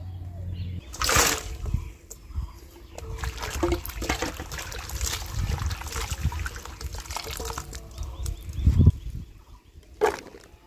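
Cut pieces of raw mango being washed in water, with soft trickling and splashing that runs steadily, a few louder sloshes and knocks, and no talking.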